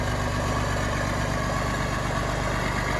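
A Bizon Gigant Z060 combine harvester engine idles with a steady, continuous mid-to-low rumble and faint vibration. The sound is even and unbroken from start to finish, with no talk over it.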